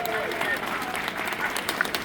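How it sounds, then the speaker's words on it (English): Applause from a crowd at a GOP rally on immigration bills in Trenton, a steady, moderately loud wash of clapping lasting a couple of seconds with voices mixed in. "Marty Faro, give her a round of applause, everybody."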